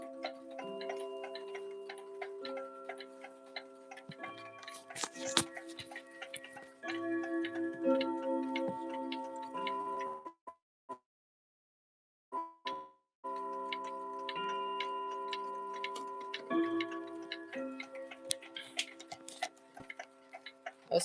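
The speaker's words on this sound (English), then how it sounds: "I actually just got this granddaughter clock today." A granddaughter clock with missing glass and missing chime rods ticks steadily and evenly, close and quiet, against a faint background that drops out briefly midway.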